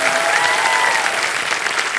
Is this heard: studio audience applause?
yes